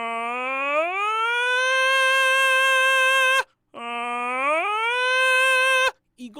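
A single voice imitates a siren as a singing exercise, sliding smoothly upward in pitch and holding a high tone, done twice with a short breath between, clear and close.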